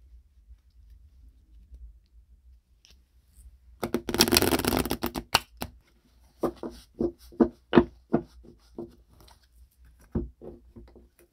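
A deck of tarot cards is riffle-shuffled in a quick burst, followed by a series of crisp taps and snaps as the cards are squared and handled.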